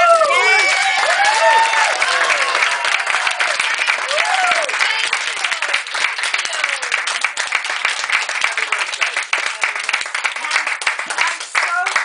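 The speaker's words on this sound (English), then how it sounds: "let's all have a clap for Sam's twin sister, Harriet" Guests at a birthday gathering applaud for a twin sister, a sustained round of clapping with cheers and whoops over it, gradually thinning as a voice cuts in.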